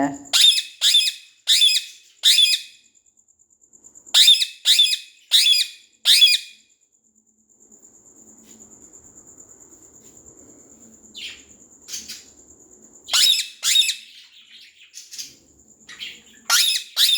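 A pet bird calls loudly and close up in repeated bursts of sharp, whistling squawks, grouped in fast runs of four or five with pauses between, over a faint steady high tone.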